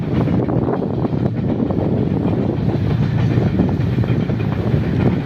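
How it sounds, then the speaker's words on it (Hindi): A train with small carriages pulls in very close, giving a loud, steady rumble with rhythmic clatter from the wheels and some wind buffeting the microphone, with no speech. "रेलगाड़ी भी आ चुकी है।"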